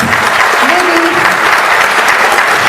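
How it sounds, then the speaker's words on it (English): Loud, sustained applause from a gala awards audience for Representative Boyd, continuous clapping filling the room with a faint voice or whoop briefly audible within it. "Let's give one more round of applause for Representative Boyd."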